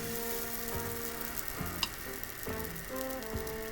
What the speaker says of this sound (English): So now it's time to fry.